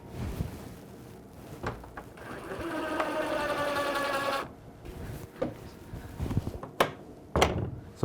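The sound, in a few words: screw being driven into pine door board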